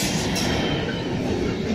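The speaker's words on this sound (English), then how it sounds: "And also we have another freight train," A freight train with cement wagons passes at Wondabyne station, Sydney, as a loud, steady rumbling roar of wheels on rails with faint squeal and no pause.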